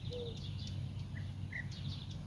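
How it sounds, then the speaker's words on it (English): Birds chirp in a natural outdoor scene with sunlit flowers, sending out several short, high tweets and calls that are fairly faint over a steady low background hum. "The birds' chirps are not just sounds."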